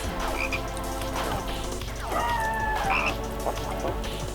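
Frogs croak in the game Nagz's Origin in a forest cave. Many overlapping, rhythmic croaks and trills form a dense, steady chorus throughout, with a rising chirp in the middle.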